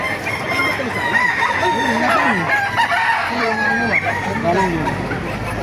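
Several roosters crow loudly and repeatedly at a busy chicken market in Baliuag, Bulacan, with clucking hens and market noise mixed in around the calls.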